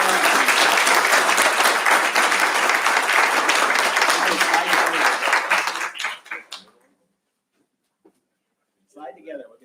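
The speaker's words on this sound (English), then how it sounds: "Let's have a big round of applause for these kids" An audience at an assembly meeting gives a big round of loud, steady applause for a group of kids, which fades out after about six seconds. Brief quiet follows, and then a voice speaks near the end.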